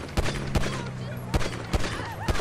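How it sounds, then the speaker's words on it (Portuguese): Scattered gunshots crack in GTA V, five or six sharp separate reports spaced irregularly over a steady background hum, moderately loud and close. "Olha lá, os caras tá atirando em mim aqui"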